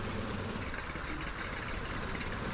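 A pickup vehicle's engine in the Ylands video game, fitted with a second engine and running as a loud, steady, rough drone with no breaks.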